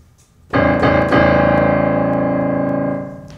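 A single deep piano note is struck hard and left to ring, its rich low tone sustaining and slowly fading.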